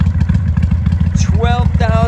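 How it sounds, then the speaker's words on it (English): A used 2001 Kawasaki Vulcan 800 V-Twin cruiser idles close by, its exhaust giving a loud, steady, lumpy throb, while a person speaks over it. "Wait till you hear that exhaust."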